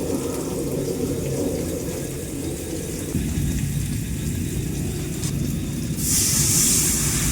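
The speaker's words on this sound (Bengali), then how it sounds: "জল দিলেন" Water pours into a cooking pot holding potatoes and carrots for a khichuri, a steady hissing splash that shifts partway through and brightens near the end.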